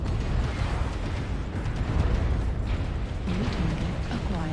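Mech weapons fire and explosions in the MechWarrior Online video game, a continuous rumbling barrage of low booms and bursts, fairly loud and dense, with a voice briefly heard over it.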